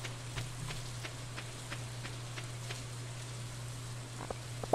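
Rain falls steadily in the farming game Stardew Valley, a soft continuous patter with scattered drop ticks over a low constant hum, no talking.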